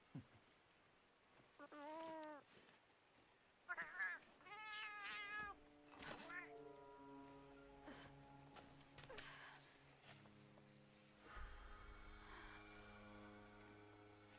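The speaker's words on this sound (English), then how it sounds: "Oh, hey, kitty, I was looking for you." A cat meows repeatedly in the video game Monster Hunter Wilds, several distinct rising and falling calls in the first seconds, fairly close, followed by soft ambient game sounds and low tones.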